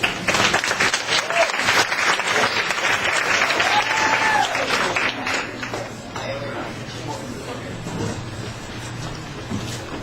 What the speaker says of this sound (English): Please clap for our next performer, Ray Rumble.